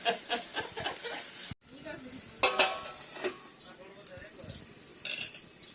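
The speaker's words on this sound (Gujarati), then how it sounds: "મમ્મી વઘારે છે અહીંયા ટમેટાનું શાક" A tomato and pea curry being tempered in a pan gives off a steady sizzle, with repeated scraping and clinking strokes of a spoon, while someone talks nearby.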